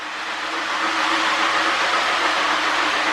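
A Lionel postwar model train rail sounds tender plays recorded train sound effects, a steady, moderately loud rushing rumble of rolling rail noise with no talking.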